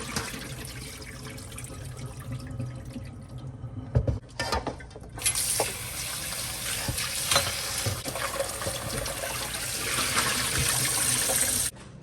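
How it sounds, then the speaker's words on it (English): Water pouring off a pot of oxtail and running from a tap while the meat is rinsed in a sink, a steady close hiss and splash of flowing water with brief clatters and stirring sounds. "So we're gonna throw off this water and then rinse it off."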